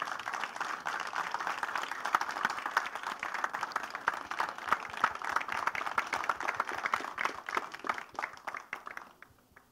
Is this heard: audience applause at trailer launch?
yes